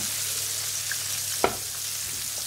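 Courgettes browning in a pan with Provence oil, salt and herbes de Provence for a ratatouille niçoise, a steady hiss of frying with one brief clatter midway, no talking.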